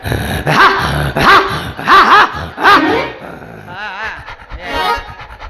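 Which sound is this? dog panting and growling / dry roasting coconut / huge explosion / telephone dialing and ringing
dog panting and growling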